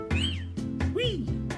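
The Pokémon GO cat Pokémon Felilu gives a synthesized meowing cry, several short pitched mews with rising and falling sweeps, heard close and clear.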